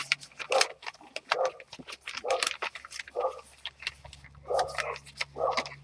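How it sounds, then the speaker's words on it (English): The neighbours' dogs bark repeatedly next door, sharp irregular yaps and woofs in quick bursts at moderate distance, with some whimpering between the barks and no talk. "We've got next door neighbours' dogs going off as well."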